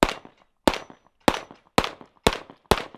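Six sharp pistol shots from a Sig P320 SXG X5 fired at an even, moderately quick pace, each a hard crack with a short ringing tail.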